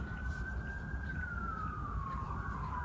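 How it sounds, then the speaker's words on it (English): An emergency vehicle siren wails outside, faint and distant, one long sweeping tone rising slightly and then falling over steady low background rumble indoors. "I'm sorry about the siren."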